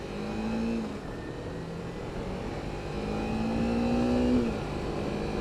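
A small-displacement motorcycle engine revs steadily in fourth gear at around 5,000 RPM, a close, continuous drone with slight rises and dips in pitch and no speech over it.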